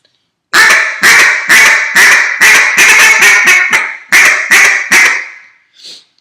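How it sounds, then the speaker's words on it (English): A duck call blown close and loud in a rapid series of raspy quacks, a quick rhythmic run, then a brief pause and a few more. "Very simple. A feed call."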